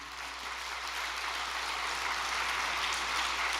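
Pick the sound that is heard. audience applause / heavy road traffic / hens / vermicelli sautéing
audience applause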